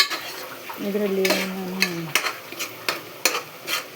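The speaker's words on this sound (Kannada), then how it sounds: "ಇದು ಮಸಾಲೆನ ಚೆನ್ನಾಗಿ ಎಣ್ಣೆ ಬಿಡೋ ತನಕ ಫ್ರೈ ಮಾಡ್ಕೊಳ್ಬೇಕು ಗೀ ರೈಸಿಗೆ" Coriander masala paste fries in oil in a pan for ghee rice, with soft sizzling under a brief spoken remark and a series of sharp scrapes and clinks as a utensil stirs against the pan.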